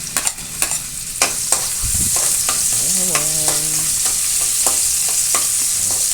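Garlic frying in Bimoli Special cooking oil until golden brown, a steady close sizzle broken by irregular spatula taps and scrapes against the pan, with a brief tonal whine in the middle.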